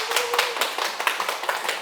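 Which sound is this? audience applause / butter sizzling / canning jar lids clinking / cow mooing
audience applause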